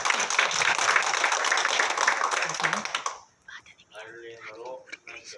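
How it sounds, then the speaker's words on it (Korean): Applause at a church service: dense, steady clapping from a crowd for about three seconds, then a voice speaking over faint room noise. "박수"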